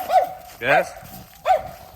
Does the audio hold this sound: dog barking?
yes